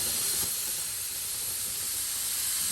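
Steam hisses from a pressure cooker full of Louisiana-style red beans, a loud continuous high-pitched rush that holds steady without pause.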